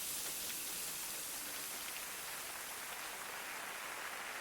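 Soft, steady rain hissing evenly throughout, faint and continuous with no voices.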